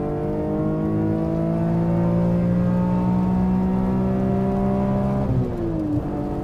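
A BMW M3 E46 Touring's straight-six engine screams upward in a long, loud, sustained rev toward 8000 rpm, pitch climbing steadily before a sharp shift-like drop near the end, heard from inside the car with no talk.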